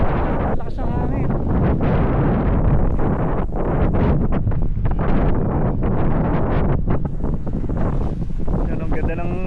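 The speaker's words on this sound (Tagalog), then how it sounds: "Lakas ng hangin." Strong wind by Laguna Lake in Binangonan, Philippines, buffeting the microphone in a constant loud roar, with voices faintly audible beneath it.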